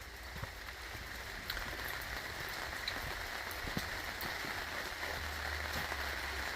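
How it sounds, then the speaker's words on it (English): Rain falling steadily outdoors, a soft constant patter on surfaces with scattered drop ticks throughout. "come back out of the rain here"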